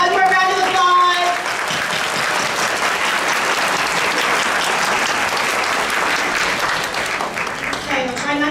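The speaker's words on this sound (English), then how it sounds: "Everyone gets one more round of applause." A kindergarten graduation audience breaks into a long, dense round of applause from many hands, with speech briefly heard at the start and end.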